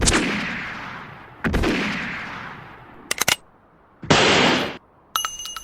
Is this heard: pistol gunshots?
yes